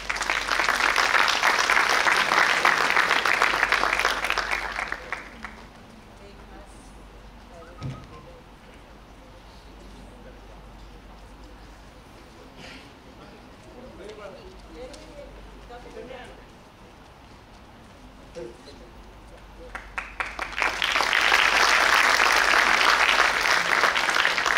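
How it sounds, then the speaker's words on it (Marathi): An audience at a school event for Ahilyadevi Holkar's tricentenary and Women's Day breaks into loud, dense applause, which fades to murmuring crowd noise and then swells again into a second strong round of clapping. "पुन्हा एकदा जोरदार टाळ्या."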